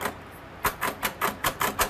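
A Braille typewriter used by a blind child for school assignments, striking keys about six times in a steady, evenly spaced rhythm after a brief quiet start. The crisp mechanical clacks are close and alone.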